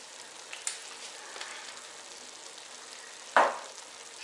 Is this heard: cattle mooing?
no